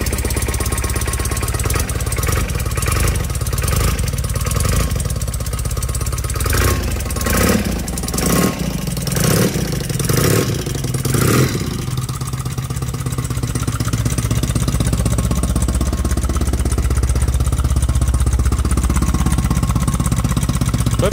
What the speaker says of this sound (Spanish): Para tener un escape tan cortito no hace tanto ruido, ¿eh?